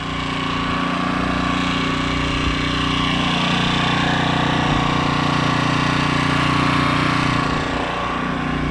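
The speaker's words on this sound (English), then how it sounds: "Got a generator." An old gasoline generator runs at a steady, close, loud idle, its chugging engine drone continuing unbroken with slight rises and dips and no talk over it.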